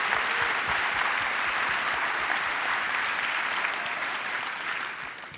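Audience applause during a film festival Q&A session, a steady wash of many hands clapping that holds for several seconds before beginning to fade.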